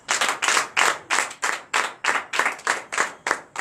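A church congregation at a Friday night deliverance and prophecy service claps in a steady rhythmic beat, about three claps per second. The clapping is loud and close, with no voices.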